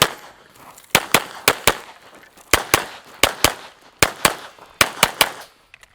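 Glock 17 Gen 6 pistol fired while moving in USPSA practice, sharp, loud reports coming in quick pairs and triplets with short gaps between bursts.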